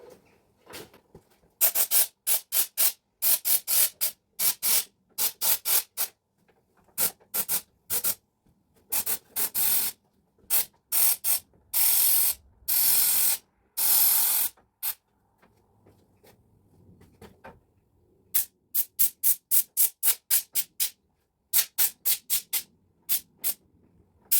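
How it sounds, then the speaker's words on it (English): A hand spray bottle is pumped repeatedly at a car body panel during restoration of a Ford Fiesta Mk1, giving sharp, close hissing bursts, some quick and evenly spaced, some longer, with short silent gaps between. "Just heat it a little bit up with the heat gun and the sprayer bottle."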